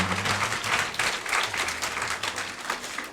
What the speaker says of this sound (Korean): So if you want to clap, let's clap together.